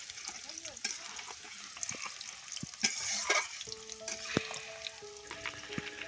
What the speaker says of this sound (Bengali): তাই অল্প অল্প আম দিয়ে ভেজে নেবেন ভালো করে।